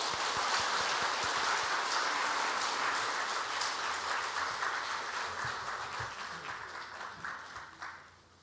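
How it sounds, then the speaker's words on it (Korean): A church congregation at a Sunday worship service applauds in a dense, sustained wash of clapping that holds steady, then slowly thins out and fades near the end. "우리 축하하면서 박수하도록 하겠습니다."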